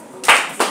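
Two sharp claps from a classroom group applauding a student, close and brief, the second following the first after a short gap.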